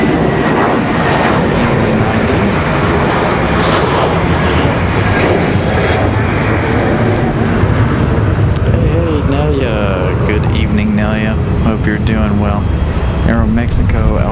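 Aeromexico airliner on final approach landing at Raleigh-Durham airport, a loud continuous jet engine roar that swells and shifts in pitch, with wind and people talking over it.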